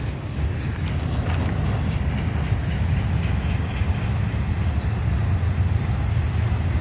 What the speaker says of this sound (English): We're getting pretty close to the train.